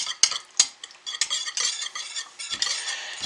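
A utensil stirs fragrance oil into cold process soap batter in a container, giving a couple of sharp knocks followed by soft, continuous scraping swirls nearby, without any speech.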